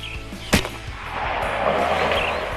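A single sharp shot from a Seneca Dragon Claw .50 caliber air rifle on a shooting range, one loud close report followed by quieter outdoor ambience.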